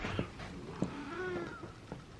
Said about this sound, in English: put the cats in their carriers